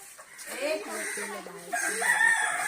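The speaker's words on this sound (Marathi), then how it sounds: "आणि आताच कोंबड्या सोडलेल्या आहेत" Chickens cluck and a rooster crows nearby, the calls overlapping in a busy farmyard chorus.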